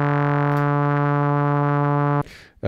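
A Yamaha CS-15 analog synthesizer holds a loud, bright, buzzy note through its filter with LFO modulation adding a subtle wobble, then the tone stops abruptly into a brief noisy tail.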